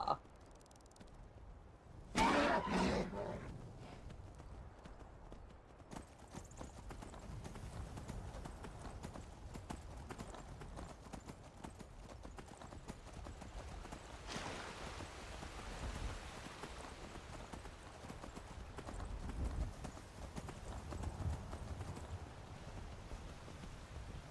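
Steady clip-clop of horse hooves in the video game Skyrim over a rainy background, with a brief louder burst near the start and a mid-level rhythm throughout.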